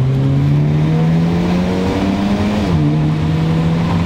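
Hyundai Elantra N with a turbocharged engine and DCT gearbox accelerating at full throttle, a loud, steady engine drone whose pitch climbs through the gears, with a brief dip at a shift.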